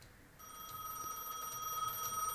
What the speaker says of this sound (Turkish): Kabinde çalan telefon cevapla demiş.